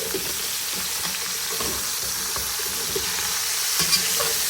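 Onion, dried Basra lime and garlic fry in a pot for Iraqi masmouta, stirred as they cook: a steady close sizzle broken by soft scraping stirs, with no talking.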